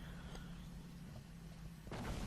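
A tank cannon fires in World of Tanks, from a JagdPz E-100 tank destroyer: a single loud, blasting boom erupts near the end, after a stretch of steady engine rumble and in-game background noise.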